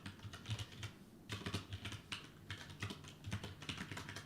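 Keystrokes clatter steadily on a computer keyboard without a number pad, irregular bursts of clicks in quick succession, close and fairly quiet, with no voices.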